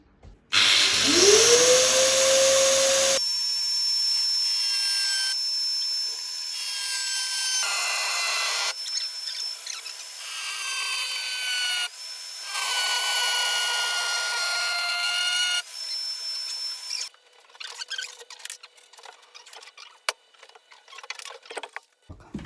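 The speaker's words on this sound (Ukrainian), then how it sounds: "а зараз треба відрізати оцю деталь" Steady grinding and sawing by a power tool cutting a wooden furniture part, running continuously in long stretches with brief changes in pitch, then scattered clattering at the end.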